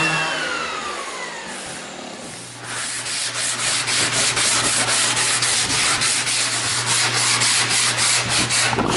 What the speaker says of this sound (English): came back with a sander and sanded it basically almost back down to the wood again